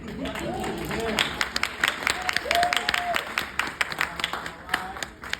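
Applause from a small group at a conference, patchy and uneven, with people talking and calling out over the clapping.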